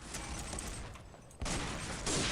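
Video game gunfire, a dense fusillade of rapid shots that jumps louder partway through and stays loud to the end, close and without talk.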